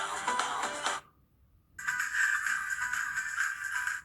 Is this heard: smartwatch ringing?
yes